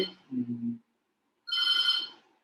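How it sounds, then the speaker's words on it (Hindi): Telephone ringing in two short bursts separated by a brief silence, the second burst a bright, clear electronic ring with a low buzzing tone before it. "1 मिनट जरा, ये फ़ोन आ रहा है"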